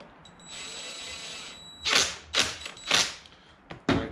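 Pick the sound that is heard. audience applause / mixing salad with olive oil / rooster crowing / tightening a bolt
tightening a bolt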